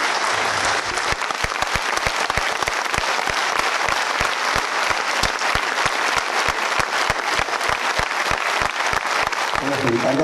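A concert audience at an ensemble's anniversary jubilee concert applauds steadily, dense rapid clapping filling the hall loudly and continuously from start to end.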